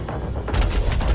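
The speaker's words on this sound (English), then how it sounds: "Ooh, it's a machine gun." Heavy cannon machine gun fire in DOOM Eternal, with a loud, dense burst of rapid shots that starts partway through and carries to the end.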